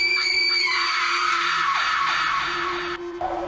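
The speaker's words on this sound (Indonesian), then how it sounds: "Rina berteriak ketakutan," A woman screams in fear in a horror story, one long, loud, sustained shriek with a wavering pitch that holds for several seconds before cutting off abruptly over a low steady hum.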